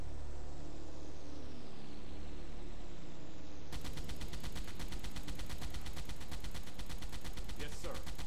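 Rapid, dense anti-aircraft gunfire from a submarine's deck guns firing at aircraft in the naval simulation game Silent Hunter 3. It begins partway through after a steady wash of sea noise, then becomes a loud, continuous staccato rattle.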